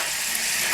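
Margarine sizzles in a pan over low heat, a loud, steady hiss of frying fat that stays constant for a brief moment, close by.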